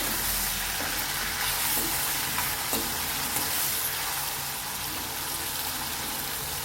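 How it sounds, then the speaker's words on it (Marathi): A medium-sized tomato sautés in oil with a dense, steady sizzle and crackle, loud and close, with a few soft stirring knocks and no voice. "तेलावर छान मीडियम साईजचा टमाटा हे परतून घ्यायचे"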